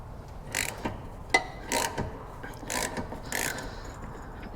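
Wrench working loose the blade bolt under a John Deere X380 mower deck: a few close metallic ratcheting clicks and scrapes, moderately loud, with one sharp knock and no speech.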